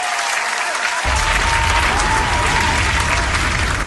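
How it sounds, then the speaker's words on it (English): Room of people applauding a guest introduced on her birthday at a family chat event, clapping swelling after a second into a loud, dense, sustained burst with a faint crowd murmur, cutting off at the end. "So let's get a round of applause."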